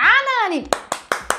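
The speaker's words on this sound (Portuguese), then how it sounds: "Palmas para a Nani." A voice calls out, then four sharp, evenly spaced hand claps follow, close and distinct, applauding Nani during a live makeup stream.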